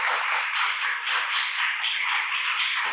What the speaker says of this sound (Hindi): क्या हम ताली बजा सकते हैं अपने परमेश्वर के लिए?